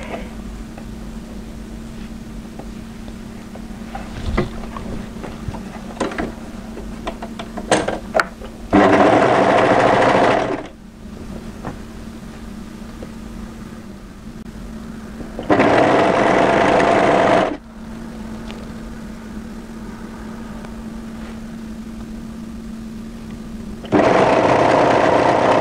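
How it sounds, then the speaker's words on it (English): Sewing machine stitching the side seam of a crossover funnel-neck sweater from underarm to hem, running in three loud steady bursts of about two seconds each, separated by quieter handling of the fabric. "I can sew the other side from the underarm through to the hemline"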